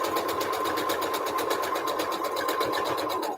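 A sewing machine stitches a quilt at steady high speed, a close, continuous rapid whirring chatter with an even rhythmic pulse and no talk over it.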